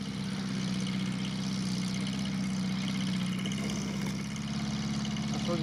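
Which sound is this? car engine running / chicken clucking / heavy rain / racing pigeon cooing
car engine running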